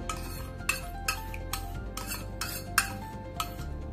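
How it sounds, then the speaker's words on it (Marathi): Whisked curd being stirred into milk in a pot, with a spoon scraping and tapping the metal in a regular rhythm of about eight strokes over a low background hum. "आता याच्यामध्ये ह्या दुधामध्ये ना हे आपण फेटून घेतलेलं दही मिक्स करायचं आहे"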